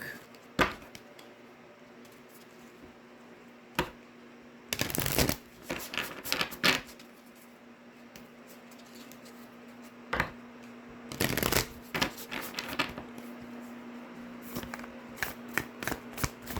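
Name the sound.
shuffling Sacred Traveler Oracle deck cards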